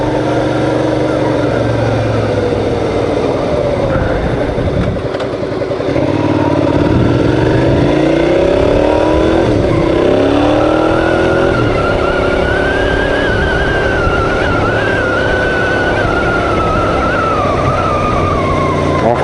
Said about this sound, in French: on lâche les gaz quand on change de vitesse